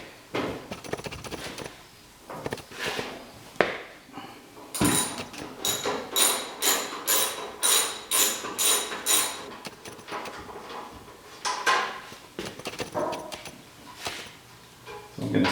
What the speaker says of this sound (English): I'm just going to use my 3/8" drive ratchet and a T40 Torx bit on an extension